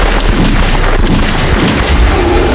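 A fast, dense volley of gunfire erupts in the moment after a shouted command to fire, loud continuous cracks and booms packed together with no pause for the full stretch.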